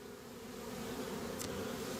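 A steady, continuous buzz of many honeybee drones and workers inside a beehive, close and even throughout, with no voices.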